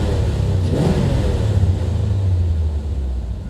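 A Corvette engine revs up once and eases back into a steady, rumbling idle, close and loud with no talking.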